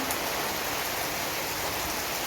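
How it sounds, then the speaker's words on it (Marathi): Heavy rain pours down continuously, a dense, even hiss of drops hitting surfaces, steady and close throughout. "आमच्या इकडे असा धो धो पाऊस आलेला आहे बघू शकता तुम्ही"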